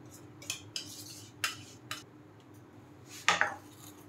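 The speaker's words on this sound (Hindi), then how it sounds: "इसको हिलाते ही रहना है, छोड़ना नहीं है, पूरा डो बनने तक ही पकाएंगे इसको।" Spoon or spatula scraping and clinking in a kadai while milk batter cooks in ghee over medium heat, a few sharp metallic knocks spaced apart with a louder scrape near the end, no talking.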